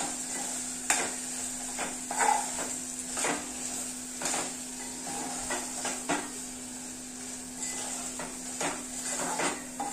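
Prawns being sautéed in a pan while cooking prawn rice: soft background sizzle with intermittent scraping and clinks of a spatula against the pan, fairly close, with no talk.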